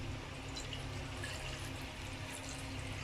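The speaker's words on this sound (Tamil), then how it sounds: "பண்ணிவிட்டு இதில் தண்ணி வந்து ஆட் பண்ணிடலாம்" Water pours steadily into a small kadai pan fitted with a stand inside, set up for steaming; a continuous close, even splashing rush with no breaks.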